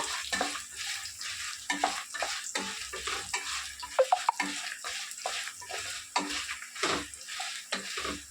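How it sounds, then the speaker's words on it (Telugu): Dry red chillies lightly frying in oil for an ivy gourd and onion dish, heard as irregular stirring scrapes and clatter over a soft crackling sizzle, fairly quiet and close, with no talking. "ఎండుమిరకాయలు కూడా లైట్ ఫ్రై చేసుకున్నాం"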